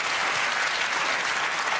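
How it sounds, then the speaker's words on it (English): A studio audience on a comedy panel show breaks into applause: loud, dense, continuous clapping from a large crowd, filling the moment without pause and with no talk over it. "But the round of applause can fuck right off."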